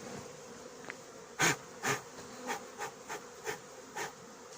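Honeybees from a swarm being housed in a hive buzz steadily while someone blows on them, a series of breathy puffs each stirring a sharper burst of buzzing, close and without talk.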